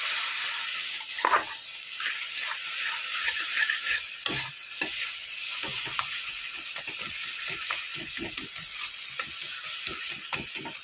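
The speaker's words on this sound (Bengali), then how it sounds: "গরম মশলা দিয়ে আমি এই মশলাটাকে কষিয়ে নেব" A spice paste with garam masala sizzles in oil in a pan for a fish dish, with frequent close scraping strokes of stirring over a steady hiss.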